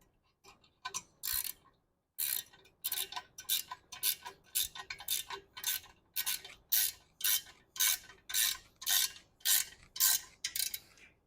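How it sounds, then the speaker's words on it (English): A ratcheting wrench clicks in quick rhythmic bursts while tightening a bolt on a gym sled, each stroke a short rasping run of ticks, close and fairly quiet, about a dozen strokes in steady sequence. "So I've got a ratcheting wrench here."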